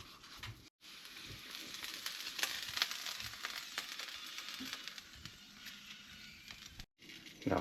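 Sausages sizzle and crackle steadily in a frying pan, a faint continuous spatter with small pops, heard alone without talk.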